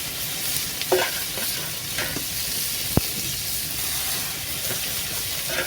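Capsicum, tomato and onion fry for kabab kosa, a steady hissing sizzle with occasional stirring scrapes and a single sharp tap about midway.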